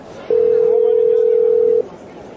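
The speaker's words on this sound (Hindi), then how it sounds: "अचानक उसका फोन बज उठा" A phone in a narrated Hindi suspense story gives one steady electronic tone of about a second and a half, loud and even, over a faint background hum.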